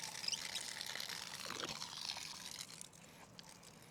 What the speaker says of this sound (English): Just to purge out the filter, make sure water runs clear before you hook it up.